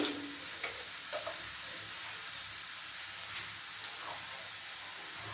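Cauliflower fries in a pan for gobi paratha filling, a soft, steady sizzle with faint crackles and occasional light stirring scrapes, close and even throughout with no talk.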